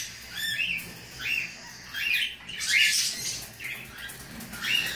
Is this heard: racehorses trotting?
no